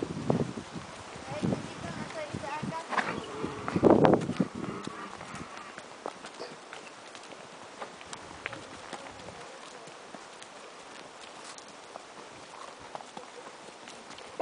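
Horse hooves clip-clopping on a hillside trail during a ride, a loose walking rhythm that is louder in the first few seconds and then fades to faint steps, with people talking over it.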